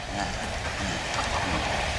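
A train travelling on rails, a continuous broadband rumble and rattle of wheels and carriages, steady and fairly loud throughout with no talk.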